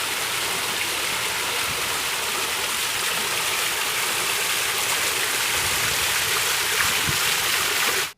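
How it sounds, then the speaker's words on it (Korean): Water from an artificial water feature outside a cafe pours in a loud, continuous rush that holds steady and unbroken from start to finish. "이게 카페 밖에 인위적으로 만들어 놓은 뭐 그런 건데"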